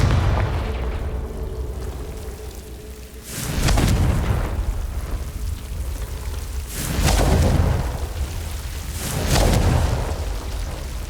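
Blasting-curse explosions from Hogwarts Legacy, the video game, hit three times at roughly even gaps. Each is a heavy, booming burst that rumbles off slowly, with a low, noisy background between the blasts.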